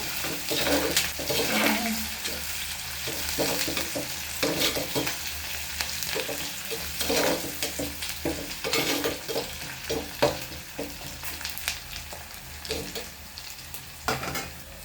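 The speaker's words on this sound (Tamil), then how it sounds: "பெருஞ்சீரகம் வெண்டு வெந்தயம் போட்டு நல்ல வாசனை வருது" Fennel seeds and fenugreek sauté in oil for a mutton curry, a continuous close sizzle broken by frequent spoon scrapes and knocks against the pan as it is stirred.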